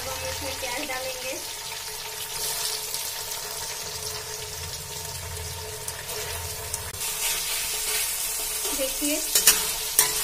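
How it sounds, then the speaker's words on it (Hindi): Onions sauté in a pan for a vegetable spring roll filling, with a continuous hissing sizzle and stirring scrapes; a voice speaks briefly over the cooking. "अब हम इसमें प्याज डालेंगे"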